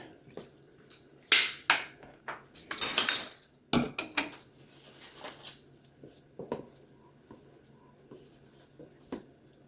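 A spoon stirring vanilla into a pot of homemade applesauce, with a run of clinks and scrapes against the container that trail off into occasional light taps.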